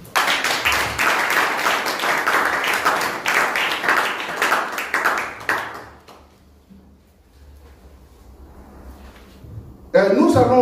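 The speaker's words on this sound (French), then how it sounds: "Applaudissons le Seigneur" A church congregation applauding during a sermon, dense rapid clapping for about six seconds that fades out, followed by quiet and then a sudden burst of sound at the end.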